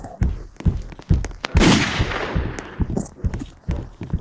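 Rifle shots in a French-language video game, several sharp cracks with one louder blast mid-clip, heard among footstep-like thuds and game noise at close range.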